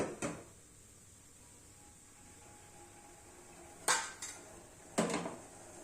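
A cane sugar mixture is stirred to dissolve it, with a few isolated metallic clinks of utensil on vessel, one early and a cluster later, over a quiet kitchen background.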